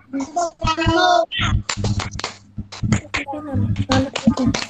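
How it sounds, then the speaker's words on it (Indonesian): Children perform the Indonesian scout clap, a patterned series of sharp hand claps in bursts, mixed with loud spoken chanting from the kids and an adult nearby. "lagi sekali lagi coba Kafa dan Mbak Im, tepuk pramukanya yang keras"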